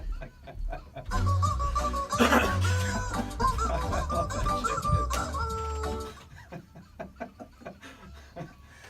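A pop song is performed entirely with chicken clucks, loud and rhythmic, before fading into quieter, scattered clucking.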